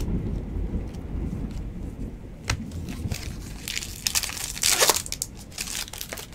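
Steady heavy rain falls outside with crackling bursts and rumbles of thunder, a dense continuous wash of sound with louder crackles toward the end, no voices.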